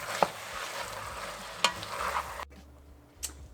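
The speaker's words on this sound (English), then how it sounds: "we're gonna cook the meat for 5-7 minutes" Meat cooks in a pan, giving a steady sizzle with a few sharp spatula scrapes before it drops to a quieter hiss and one last clink near the end.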